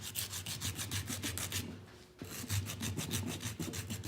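Wooden ring rubbed back and forth on sandpaper glued to a flat wooden board, a steady rhythmic scraping of short repeated strokes close up, with a brief pause midway before the strokes resume.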